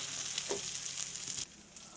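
Rava-coated fish fry sizzles steadily in a hot pan, a close, continuous hiss with a brief scrape partway through before the sound drops to a softer sizzle.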